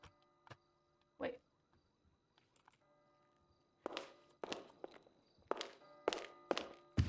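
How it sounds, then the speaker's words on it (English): A gavel bangs repeatedly as wooden thunks in a quiet room over a low mains hum, with a few scattered knocks at first and then a rapid cluster of loud strikes. "I swear I banged this gavel."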